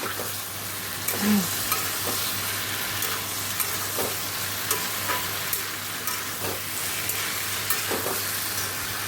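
Tangra fish curry base of spices with salt, turmeric and sugar being fried and stirred in a pan, giving a steady close sizzle with scattered scraping stir strokes and no talking.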